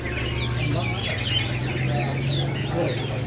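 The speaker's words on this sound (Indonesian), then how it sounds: "Di sini ada burung anis macan ya." Chirps and calls from an anis macan thrush ring out in a busy bird shop, with other caged birds and fowl clucking around it over a steady low hum, with possible faint talk underneath.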